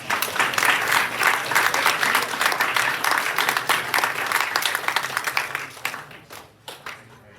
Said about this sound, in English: If I can please have a round of applause.